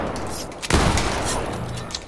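A single gunshot fires in the Fortnite video game, a sharp loud crack followed by a short decaying tail over steady background game noise.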